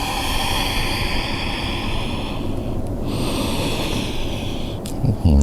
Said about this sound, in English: Taking long, deep breaths